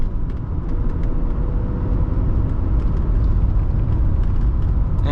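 A 1981 Mercedes-Benz 300SD engine labors up a steep grade, a steady loud low drone with road rumble and faint ticking, no talk.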